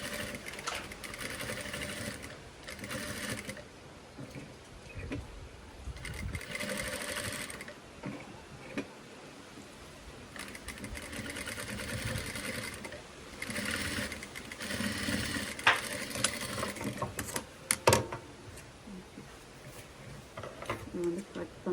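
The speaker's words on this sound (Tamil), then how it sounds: "இப்போ வந்து நாங்கள் இதில் இன்னொரு தையல் போடுவோம்." A sewing machine stitches a gown in steady whirring runs that pause and restart, with someone speaking at times over and between the stitching.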